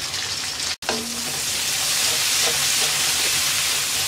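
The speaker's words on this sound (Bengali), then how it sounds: "পেঁয়াজটা হালকা নরম করে ভেজে নেব।" Chopped onions with cumin and black cumin fry in hot oil for a potato and eggplant pabda fish curry. The sizzle is loud and constant, with a brief drop-out near the start.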